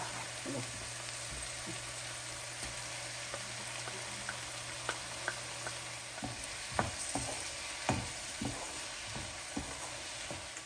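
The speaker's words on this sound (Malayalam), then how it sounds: "ഇനി നമുക്കതിലേക്ക് പച്ചമുളക് ചതച്ചത് ഇടാം കേട്ടോ" Crushed green chillies hit browned onions frying in oil for a chicken curry, a steady sizzle broken by scattered scrapes and taps of a spoon stirring in the pan, with no talking.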